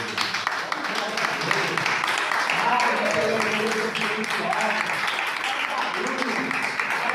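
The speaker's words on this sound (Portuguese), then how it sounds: "Dá uma salva de palmas para Jesus." A church congregation gives a round of applause during a Portuguese-language sermon, a steady wash of many hands clapping at moderate loudness with voices mixed in throughout.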